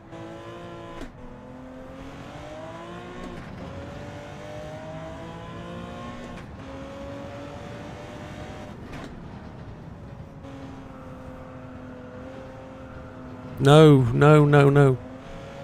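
A race car's engine drones in Gran Turismo 7 during a license test on a wet track, its pitch rising and falling through gear changes and braking. A player talks over it throughout, and a burst of loud, harsh engine noise comes near the end.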